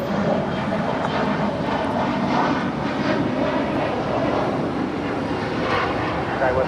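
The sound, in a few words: airliner taking off, runway 25 right at LAX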